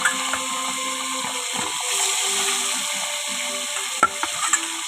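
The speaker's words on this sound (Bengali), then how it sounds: "তো আমি ঢেলে দেবো এখন মাছটা" Foli fish rubbed with turmeric and salt sizzles and spits steadily in hot oil, a dense frying hiss with a few sharp pops and clinks near the end, no voices.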